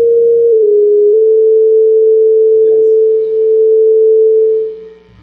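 A steady electronic oscillator sine tone pitched at A sounds alone, loud and continuous, with a slight pitch dip in the first second before settling and fading out at the end.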